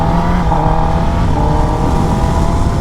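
A 2021 Kawasaki ZX10R sport bike is ridden on a mountain road, its engine a loud, continuous, steady drone heard up close with no break.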